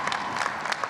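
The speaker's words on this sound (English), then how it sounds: "give them a round of applause." An audience at a university spring commencement ceremony, UNC-Chapel Hill, gives a round of applause. Brief, steady clapping from a large crowd, moderately faint and continuous over the short moment.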